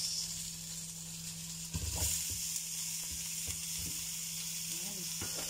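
Carrots are tipped into a pot for a creamy potato carrot soup and hiss in a steady sizzle. Stirring adds a few soft knocks and scrapes above a constant background hum, close and continuous.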